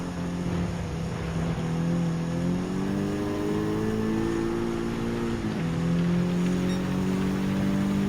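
A racing car in Gran Turismo 7 accelerates along a straightaway while chasing an R32 Skyline, its engine note climbing steadily in pitch and dipping briefly at a gear shift before rising again, loud and continuous with no talking.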